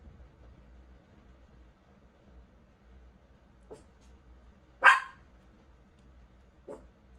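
A dog barks three times, widely spaced, with one sharp, louder bark in the middle and the others softer, against a quiet low hum.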